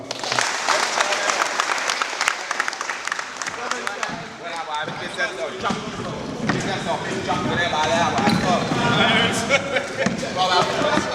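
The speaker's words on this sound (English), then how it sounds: "Give them a round of applause." An audience gives a round of applause, with dense, loud clapping that runs steadily through the whole stretch and swells slightly toward the end. Voices seem to mix in with the clapping.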